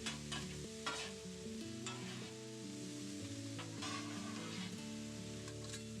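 Taco meat mixed with salsa being stirred in a pan, a close steady sizzle with repeated scraping strokes of a spoon against the pan, no speech.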